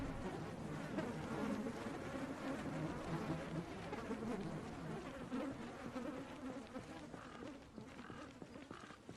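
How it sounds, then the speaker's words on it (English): Loud insect buzzing in the Project Zomboid video game, a dense continuous drone filling the space inside a house, with faint clopping knocks and a brief voice murmur. "The buzzing is so loud."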